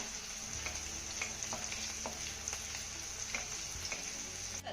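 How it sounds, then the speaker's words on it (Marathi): Garlic and green chillies sauté in a pan, giving a quiet, even sizzle with light, regular taps and scrapes of a spoon stirring, and no voices. "आता हा लसूण आपण हलक्या सोनेरी रंगावरती चांगला परतून घेऊया"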